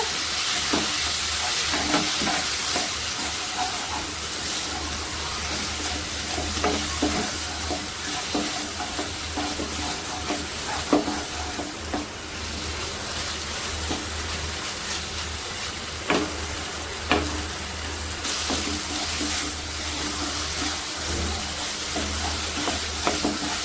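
Grated paneer filling with pointed gourd being sautéed in a pan, a continuous loud sizzle with scattered spoon scrapes and clicks, steady throughout.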